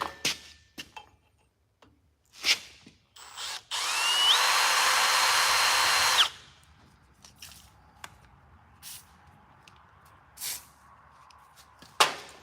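A power drill bores a 7/16 inch hole in a custom part for a Cummins build, one loud steady whine of about two seconds between scattered clicks, taps and quiet handling noises.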